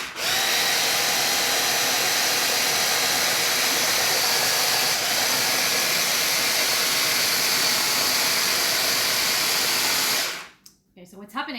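A food processor whirs loudly and continuously as it blends hummus with parsley, a steady high-pitched motor drone that holds for about ten seconds and then cuts off abruptly.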